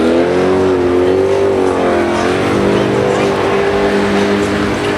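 An Ultra 4 offroad 4x4 truck on Ridge Grappler tires revs its engine loudly and continuously, the pitch rising and falling as the throttle changes.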